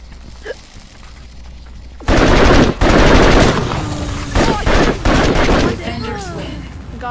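Gunfire in a VR shooter video game, with loud sustained bursts of rapid shots and impacts after a quieter opening, one including a headshot, with a voice talking faintly underneath.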